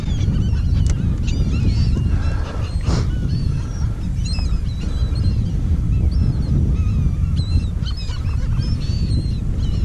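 Seabirds and geese call and honk over open water while feeding, a steady chorus of overlapping cries under constant wind and water noise near a kayak, no talk.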